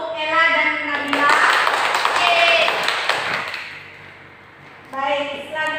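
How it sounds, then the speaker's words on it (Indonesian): A classroom full of students claps for two classmates after a physics lesson on circular motion. A burst of applause lasting a few seconds sits between stretches of nearby talk. "Oke, beri aplaus untuk Ella dan Nabila."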